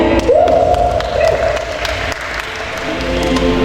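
A crowd applauds steadily for a newly introduced guest at a talk show on Malang-style goat soto held during a food festival. The clapping is loud, dense and sustained throughout, with a voice briefly heard over it.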